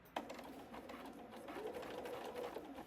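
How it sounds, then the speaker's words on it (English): A domestic sewing machine running a few back stitches through fabric for a boxed-bottom knitting bag, giving a steady, close, quiet mechanical whir of rapid needle strokes lasting a few seconds. "So I'm going to do a few back stitches."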